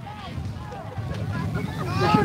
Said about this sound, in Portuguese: O vento chegou.